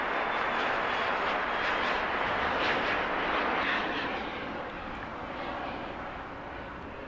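An airliner taking off from runway 25 right at LAX makes a broad, rumbling jet roar that swells, then slowly fades as it pulls away.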